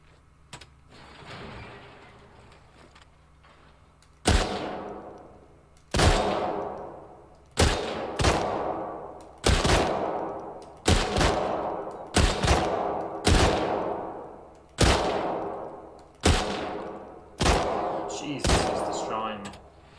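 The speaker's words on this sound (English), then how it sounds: "Bit of a shooting contest going on." Gunfire rings out in a shooting contest in The Last of Us Part 2, a dozen or so sharp, loud shots spaced about a second apart, each with a short decaying tail after a quiet opening.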